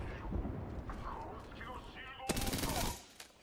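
Gunfire in the video game Horizon: a rapid, loud automatic burst lasting about half a second, preceded by game voices and effects and followed by a brief quieter tail.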